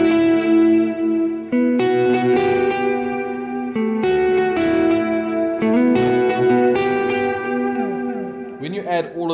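Chords on an electric guitar ring out one after another, each trailing into echoing repeats and a wash of reverb, ending with a brief scrape.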